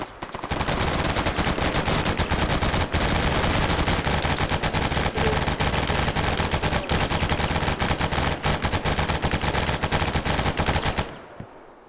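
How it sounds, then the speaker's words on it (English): Celebratory gunfire shot into the air in Arma 3 rattles as one continuous, loud automatic barrage of rapid overlapping shots for about eleven seconds, then cuts off abruptly. "the only thing we can do now, since we killed the infidels, is to shoot up in the air in celebratory fire"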